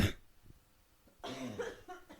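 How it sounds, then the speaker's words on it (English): A single dry cough bursts out near the start, followed by a few quieter breathy, throaty sounds. "I still have that, like, the residual dry cough"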